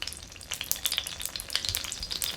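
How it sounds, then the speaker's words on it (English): Hot oil sizzles and crackles steadily in a pan on a home kitchen stove, dense bright spitting with frequent pops, close and continuous, with no one talking. "You can see the oil starting to heat up."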